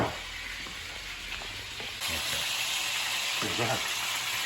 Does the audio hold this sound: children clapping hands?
no